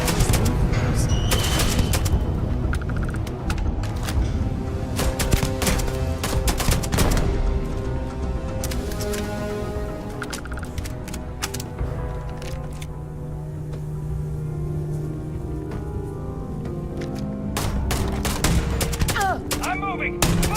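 A Starfield firefight: rapid bursts of automatic gunfire and single shots crackle almost without pause for about twenty seconds, with shouted voices now and then.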